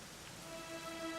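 Soft, steady rain falls in the video game Dragon Quest XI as a faint, even hiss, while a quiet sustained musical tone rises underneath and there is no speech.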